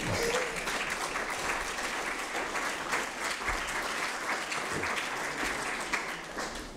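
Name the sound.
audience applause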